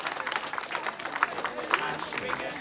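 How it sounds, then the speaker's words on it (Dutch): Applause from an audience at a Dutch benefit evening, a steady wash of clapping running under a voice that keeps talking over it. "Daar wil ik ook een groot applaus voor."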